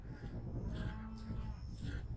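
Cattle on a ranch during a morning check moo repeatedly in low, drawn-out calls, several overlapping animals at moderate distance, quiet overall.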